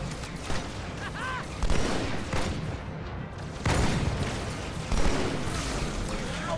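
Sniper rifle fire from Halo 2 on Legendary difficulty, several heavy booming shots spaced a second or so apart, loud and close amid continuous battle noise.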